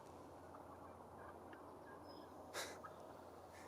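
A wild turkey hen in Idaho mountain country gives a short, faint burst of yelps at dusk, set against a quiet, steady outdoor background.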